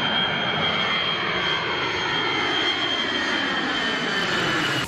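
A military transport aircraft takes off from an airport runway, its engines producing a loud, steady, close roar with a high whine that holds throughout, with no voices.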